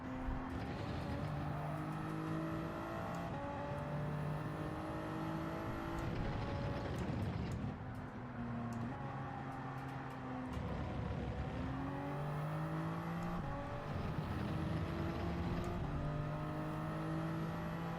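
A racing car engine in Gran Turismo 7 drones loud and continuous, rising in pitch through each gear, then dropping sharply at the upshifts and downshifts, with no talk over it.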